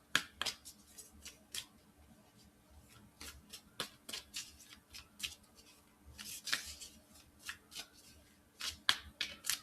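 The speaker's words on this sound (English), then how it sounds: "So we're going to pull a Moonology card" Moonology oracle cards being handled and a single card drawn, producing a close, crisp series of light papery flicks, taps and snaps scattered irregularly across the clip, with no talking.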